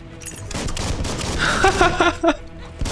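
Gunfire in the video game Biomutant crackles as a rapid burst of shots over busy game effects and music, a dense mid-loud volley peaking near the end of the few seconds.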